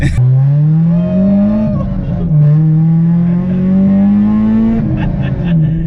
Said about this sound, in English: vtec is kicking in